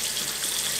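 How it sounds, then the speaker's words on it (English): Warm tap water runs in a steady close hiss while hummingbird feeder parts are rinsed under it, brief and continuous with no talk. "I'm rinsing the hummingbird feeder part, rinsing it with warm water"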